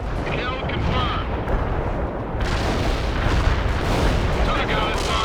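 A Daisy Cutter bomb blast in the World in Conflict strategy game, a sustained heavy rumbling roar of explosions and gunfire, loud and unbroken for several seconds, with a voice faintly present in the din.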